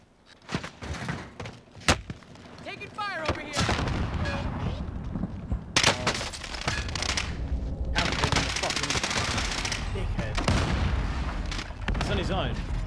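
Gunfire in Call of Duty Warzone, with bursts of shots and automatic fire mixed into a busy battle. Loud impacts land around 2 and 6 seconds, and other game sounds and voices run underneath.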